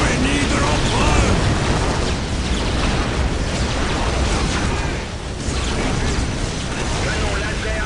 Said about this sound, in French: Canon laser activé.